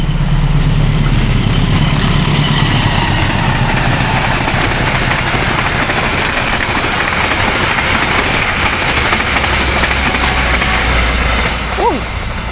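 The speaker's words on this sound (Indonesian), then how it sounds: "barusan adalah kereta api Logawa" The Logawa passenger train passes by as a continuous, loud, broad rumble that stays steady and fades slightly toward the end.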